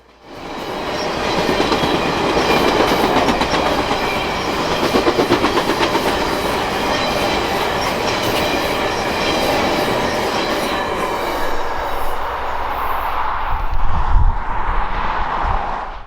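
The Canadian, a long 22-car passenger train leaving Toronto, rolls past close by, loud and steady, with rhythmic clickety-clack of wheels and a squeal of wheels near the end.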